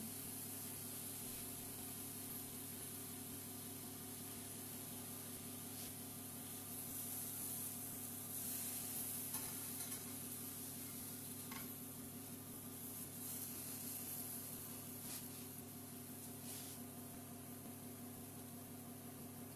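Pears are pan-cooked quickly in a frying pan until caramelized for a chocolate tart, giving off a soft, steady sizzling hiss over a low background hum.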